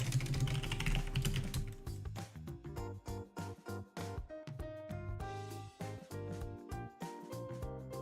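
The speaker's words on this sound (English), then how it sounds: "You just go into this file and start typing." Rapid, uneven clatter of keys on a computer keyboard, close and crisp, with bursts of fast keystrokes and brief pauses between runs.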